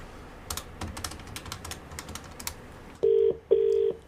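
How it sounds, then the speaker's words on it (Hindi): Phone keypad presses click quickly in a row, then two loud, steady electronic tones sound close by, with no talking. "अब एक इंसान को फोन लगाने वाला हूं जिसका मुर्गा बनाना है, फोन मिलाओ।"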